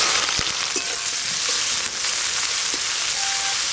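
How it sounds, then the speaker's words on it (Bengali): Chopped onions frying in hot oil with whole garam masala in a pan for rohu fish do pyaza, a dense, steady sizzle with a few soft stirring knocks and no talk. "প্রথমে পেঁয়াজ কুচিগুলো একটু ভালো করে লাল লাল করে ভাজবো"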